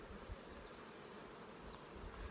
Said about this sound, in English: But the bees are sure busy.